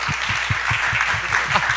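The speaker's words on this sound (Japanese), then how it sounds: "拍手よろしくお願いします" An audience claps for a 17-year-old special guest at a regional revitalization event in Okinawa, a short burst of steady, moderately loud applause with rhythmic low thumps underneath.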